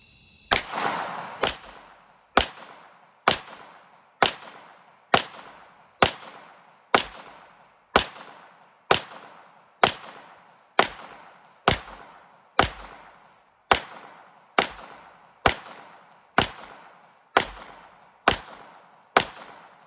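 Gunfire during nighttime shooting outdoors: about twenty evenly spaced single shots, each a sharp loud crack with a short decaying tail, steady rhythm about one per second, no talking.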